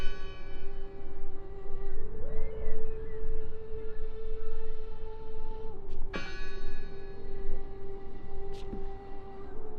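A church bell tolls in the video game Draugen, a sustained resonant ring over steady outdoor ambience, with a second sharp strike midway that blooms and fades slowly.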